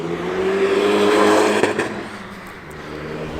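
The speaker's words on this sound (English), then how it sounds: "Lots of cars, old and new" A car revs its engine at a morning car meet of old and new cars at the Old Piggery Cafe in Combermere, swelling to a loud whir before easing off.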